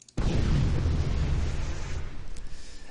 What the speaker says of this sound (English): you shoot it with your shock rifle, and you get this grand explosion